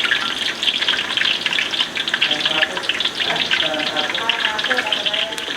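Flour batter fries in a deep pot of hot oil, giving a steady, close crackling sizzle that runs throughout at moderate loudness.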